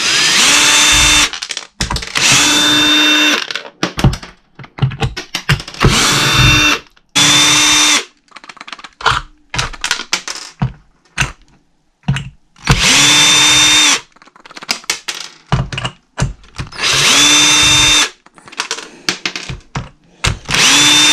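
Power driver backing out 3mm screws from the bottom cover of a Traxxas X-Maxx RC truck, loud close bursts of whirring with pauses between each screw, repeated several times.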